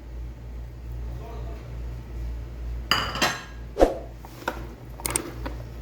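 A spoon clinks against a bowl while chana chaat is mixed with chaat masala: a few sharp metallic clinks and scrapes over a quiet room hum.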